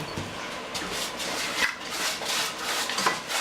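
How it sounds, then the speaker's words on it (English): A baking pan's bottom being greased for a bow-tie pasta casserole makes soft, irregular rubbing and scraping strokes, quiet and close, with no talk. "So I'm kind of greasing the bottom."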